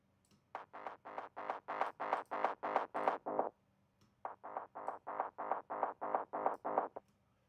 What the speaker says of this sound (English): add a little bit of distortion after that as well